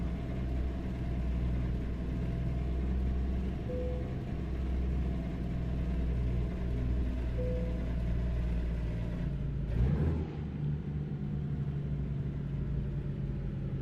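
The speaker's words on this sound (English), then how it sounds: "I like this Hall Scott engine." Hall Scott truck engine idling in American Truck Simulator, a steady low rumbling drone with a brief burst of noise near the end before it settles again.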